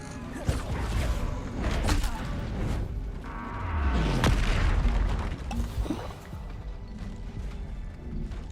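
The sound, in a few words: Bombarda spell explosion in the Hogwarts Legacy video game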